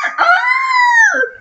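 A person mimics a giraffe with a single drawn-out, wavering voiced call that rises and falls like a crowing rooster, loud and close, lasting just over a second.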